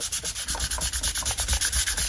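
Fine sandpaper rubs back and forth across the finish of a Gordon Smith GS2 EVO guitar neck in quick, steady, even strokes, close and alone with no voices.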